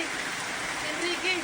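Heavy rain pours down steadily in a dense, unbroken hiss, with rushing river water in Negros Oriental under it; a faint voice briefly rises near the end.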